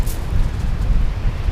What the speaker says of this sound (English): But it's been very windy most of the